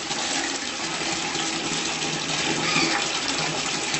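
A bathtub in a guest bathroom fills with water from the tap, a steady broadband rush and splash running loud and unbroken throughout, with no talking.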